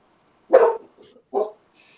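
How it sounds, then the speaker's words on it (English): A dog gives two sharp, close barks about a second apart, followed by a faint whimper, with silence around them. "oh, that's a pretty doggy."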